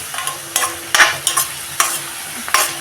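Chopped onions with a pinch of salt stirred in a pan for momos filling: a light sizzle under a series of sharp scraping spoon strokes, several distinct stirs in quick irregular rhythm.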